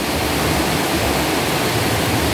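Heavy rain pours down steadily around a house on a weekend, a dense, loud, unbroken hiss with no pauses and no voices.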